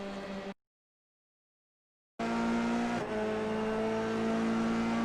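Race cars pass in an F3 sim racing series at Donington Park, a loud sustained engine whine with tire noise that cuts out to brief silence and then returns, with no talk.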